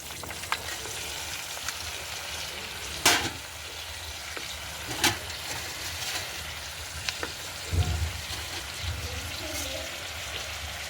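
Amaranth leaves frying in a pan with onion, green chilli and tomato give a steady close sizzle, broken by a few sharp scrapes and clinks of stirring and faint dripping, with no one talking.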